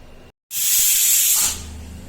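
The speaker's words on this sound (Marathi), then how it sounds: "कुकरचं झाकण लावून घेते आणि तीन शिट्ट्या करून घेते" A pressure cooker cooking sweet lemons for pickle lets out one strong, hissing steam whistle of about a second after a brief silence, then a softer residual hiss continues.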